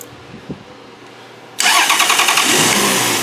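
After quiet shuffling, a car engine cranks and starts abruptly after rewiring, then settles into a loud, steady idle close by with a slight rev.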